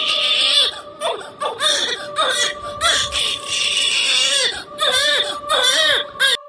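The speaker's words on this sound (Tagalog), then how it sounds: "nang marinig niya ang iyak ng kanyang anak" A newborn baby cries in repeated wailing bursts, close and loud, with short gasping pauses between cries and a steady tone running underneath.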